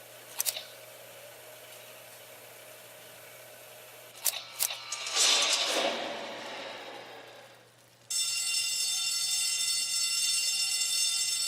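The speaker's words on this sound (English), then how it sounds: "Did you hear that? It's the fire alarm." After a few clicks and a rush of noise, a loud electronic fire alarm starts abruptly and blares steadily and continuously in a warehouse VR training simulation.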